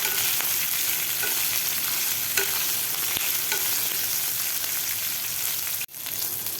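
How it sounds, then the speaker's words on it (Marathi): Green chillies frying in spice masala, a dense, loud, continuous sizzle with faint stirring knocks, close up, and a sudden brief dip near the end. "थोड्याशा आपल्या मिरच्या फ्राय झालेल्या आहेत तुम्ही बघू शकता"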